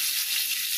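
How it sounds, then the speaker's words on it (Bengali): Potatoes frying in a pan give a bright, steady hiss of sizzling oil, close and continuous with no voices. "এই দেখো আলুটা ভাজছি"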